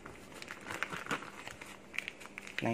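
A plastic piping bag filled with tofu batter crinkles and rustles in close, irregular bursts as it is handled, with a faint clatter at the end.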